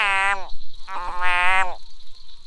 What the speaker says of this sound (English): Oh my, I've never heard a frog do this.